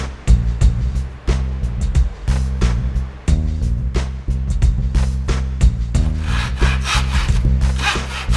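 Wood being sawn into three parts for the T-shaped base of a wooden placekicker toy, a steady rasping saw stroke running continuously at close range with strong low rhythmic pulses and no talk.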